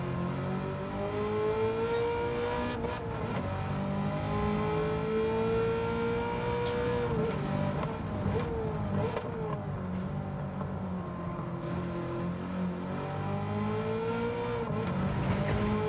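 Gr.3 race car engine in Gran Turismo 7 at Watkins Glen, revving loudly and continuously with rising and falling pitch sweeps as it accelerates and shifts, steady and close throughout.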